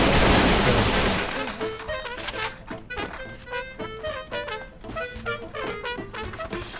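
Gunfire in the Garena Free Fire video game: a loud burst opens the stretch, then repeated sharp shots and rapid volleys follow in an irregular rhythm over music-like game tones.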